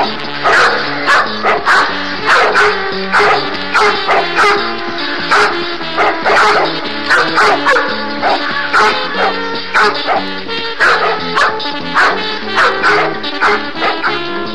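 Several dogs bark repeatedly in quick, loud yips and bow-wows over a dense musical score, the barking steady throughout and close to the listener.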